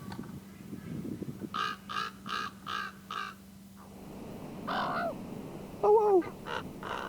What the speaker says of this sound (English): one of the young birds, most often the runt, but sometimes more than one of them, will sit and yak for anywhere from 5 minutes to an hour